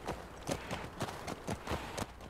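Horse hooves in The Last of Us Part 2, a quick steady run of clip-clop beats at a fast walking pace, fairly close and alone.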